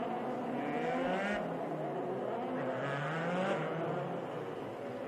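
EuroFormula Open race cars roll slowly toward the grid at the bus stop chicane, engines droning at moderate distance with a couple of rising passes, under a commentator's voice.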